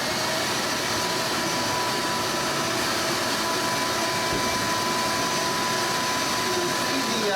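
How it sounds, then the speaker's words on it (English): A shop vacuum roars steadily as the dust extractor for a homemade two-bucket sawdust collector, a continuous broadband whine and rush with a faint steady tone, running loud and unbroken throughout with no saw cuts standing out. "I'm going to turn the vacuum on"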